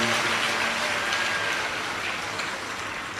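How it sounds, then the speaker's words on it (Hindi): Dense applause from a large devotional gathering at a live Shiv Mahapuran katha in Chhattisgarh, a steady wash of many hands clapping together that holds loud throughout and eases slightly toward the end. "एक बार यजमान परिवार के लिए जोरदार ताली बजाकर स्वागत, वंदन, अभिनंदन।"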